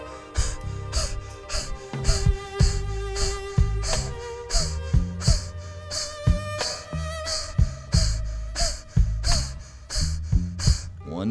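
Rapid rhythmic panting breaths during a guided breathing exercise, short forceful puffs repeating steadily over a background music bed.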